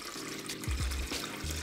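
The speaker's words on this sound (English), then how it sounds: "The third and final step is to carefully pour the water into the Keurig." Water poured from a container into the reservoir of a Keurig coffee maker, a steady close pouring and splashing with a few gurgling bursts partway through, heard alone without talk.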